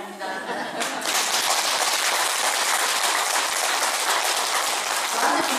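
Sustained applause from an audience at a Buddhist dharma lecture in a temple, a dense wash of clapping that swells in and holds steady and loud for several seconds.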